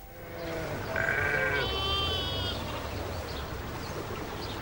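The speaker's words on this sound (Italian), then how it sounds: "stare a guardare le pecore che brucavano l'erba dal mattino alla sera" Sheep bleating out on the hills, a couple of wavering bleats over an open outdoor background, moderately close with no voices.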